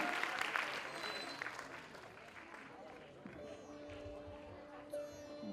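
Applause from an audience at a live stage event fades beneath a busy crowd murmur, then steady instrumental tones rise as music begins.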